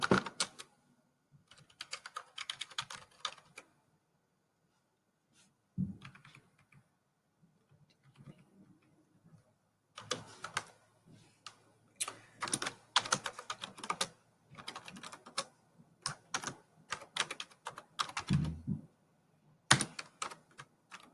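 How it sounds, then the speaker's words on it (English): Someone types on a computer keyboard while entering slide text in Microsoft PowerPoint: close, crisp key clicks come in quick bursts separated by pauses, with occasional heavier thumps, and no one speaks. "So I'm typing everything over here on the left"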